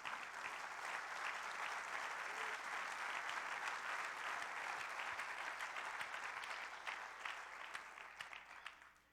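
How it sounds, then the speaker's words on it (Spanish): A church congregation applauds steadily and loudly throughout, a dense wash of clapping from many hands that holds even for the whole stretch and thins slightly at the end. "Denle un aplauso a Cristo Jesús."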